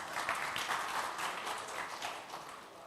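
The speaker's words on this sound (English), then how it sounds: "there is no penalty for claps" An audience at an education festival session claps, a soft, distant, continuous patter of many hands that stays fairly even throughout.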